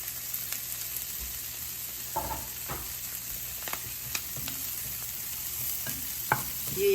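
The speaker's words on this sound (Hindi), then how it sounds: "चूल्हा बंद करके फिर मेथी डालेंगे" Fenugreek (methi) seeds are added to a pan and stirred with the stove off, giving faint scattered scrapes and light taps over a low, steady background hiss, with no talk.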